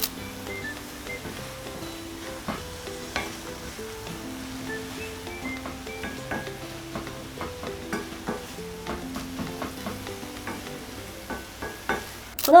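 Onions and carrots stirring and softly frying in a pot over low heat for a meat sauce, a steady gentle sizzle with repeated light scraping and tapping of a utensil against the pot, close up.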